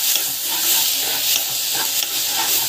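A purée with cumin and lentils sizzles in a pan while a spoon stirs it. The frying is a loud, steady hiss with a few scraping strokes and no one speaking.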